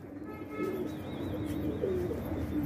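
Pigeons coo in a steady low murmur at a rooftop loft kept by a pigeon fancier, with several overlapping calls close by against a faint background.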